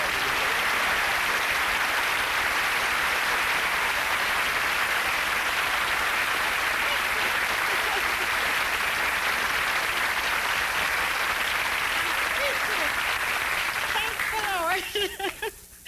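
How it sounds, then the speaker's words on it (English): Loud, sustained applause from a studio audience at a vintage 1980 television game show, a dense steady roar of clapping that fades near the end as a voice comes in. "We were applauding so loudly I couldn't hear you."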